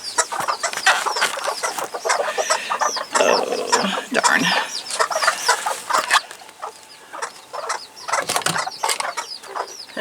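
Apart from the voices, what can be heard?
chickens clucking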